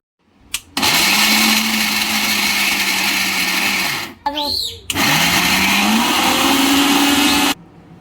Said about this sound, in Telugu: ముందు మిక్సీ జార్లో కట్ చేసుకున్న బీట్రూట్ ముక్కల్ని వేసుకొని మెత్తగా పేస్ట్ చేసుకోవాలి.